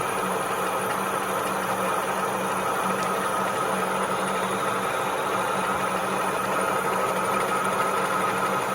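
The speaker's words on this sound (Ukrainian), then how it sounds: "І зараз почне точити. Стружечка подається, легесенько все." A 1A616 lathe makes its first cutting pass on a workpiece, giving a steady, continuous mechanical drone with a low motor hum and a broadband cutting hiss that holds even and unbroken throughout, with no voices.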